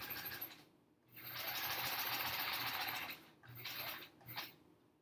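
A sewing machine with a walking foot stitches the last seam of a quilt top in quick, even bursts, close and steady, with short pauses between runs.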